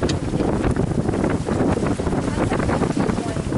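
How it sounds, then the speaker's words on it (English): Strong wind blows across a sailboat reefed in 15 to 20 knot gusts with its engine ticking over, a steady roaring buffet with broadband rushing and flutter on the microphone continuing throughout. "the wind really picked up"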